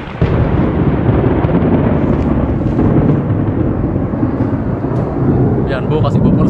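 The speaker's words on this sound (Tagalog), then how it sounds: "Ayan, kumukulog pa JR." Thunder rumbles through light rain over a roofing job site, a deep continuous roll that fills the whole stretch, loud and close, with faint rain or site noise mixed in.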